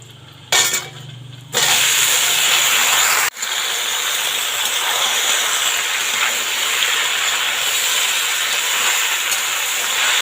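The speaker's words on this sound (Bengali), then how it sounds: "চালতাটা এইভাবে একটু ভেজে নেবো" Pieces of chalta (elephant apple) fry in hot mustard oil for a village-style pickle, a loud, dense sizzle that starts abruptly, briefly cuts out, then continues steadily up close with no talking.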